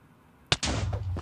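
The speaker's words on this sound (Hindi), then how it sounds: "ओए धमाका हुआ" An explosion in the Minecraft video game: one sharp crack followed by a dense, booming rumble lasting about a second, close and abrupt, with no talking.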